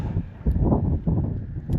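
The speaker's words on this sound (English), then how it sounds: "It's pretty windy right now." Low, rumbling wind buffets the microphone in uneven gusts, a loud blustery roar close up with no voices.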